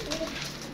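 Pigeons coo softly in a loft, a faint low murmur of cooing with no voices over it.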